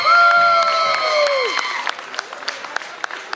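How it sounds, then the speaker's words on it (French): Audience clapping welcomes a guest on stage at a tenth-anniversary evening for the Double Mix; sparse, distinct claps sound at moderate loudness, following a short sustained tonal sound that fades out. "Je demande de l'applaudir et de l'accueillir, Monsieur Jacques Chalmin, s'il vous plaît."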